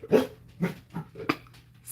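A dog gives a few short, separate barks and yips at close range, spaced irregularly over a couple of seconds in an otherwise quiet room during a craft livestream.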